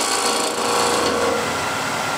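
A bowl gouge cuts into a wooden bowl spinning on a lathe, producing a continuous rough, hissing shaving noise that stays loud and even from start to finish.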